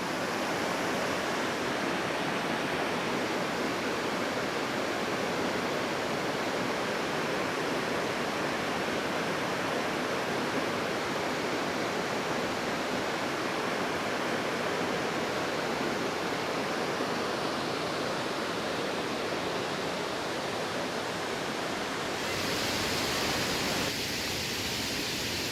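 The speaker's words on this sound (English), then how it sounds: "we've made it to the overlook of the main Burgess Falls" Burgess Falls in Tennessee, seen from the main overlook, roars as a steady, loud broadband rush of falling water, continuous throughout with a slight shift in tone near the end.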